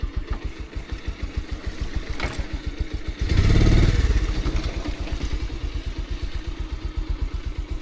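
A motorcycle engine idles close by with a steady, fast low thumping rhythm, briefly swelling into a louder roar in the middle before settling back to an even idle, heard on a mountain trip toward Bhairabkunda in Sindhupalchowk, Nepal.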